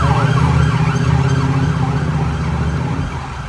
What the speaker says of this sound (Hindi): यहाँ पे रणवीर अलाहाबादिया के पास पुलिस की गाड़ी जा रही है उसको पकड़ने के लिए।